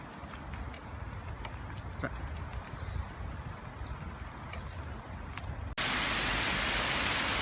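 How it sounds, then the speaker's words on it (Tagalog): Steady heavy rain hisses continuously, then abruptly swells into a much louder, denser roar near the end. "lakas ang ulan"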